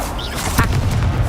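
A single spell blast bursts out midway through a wizard video game set in the Harry Potter world, a sharp booming crack over steady game ambience.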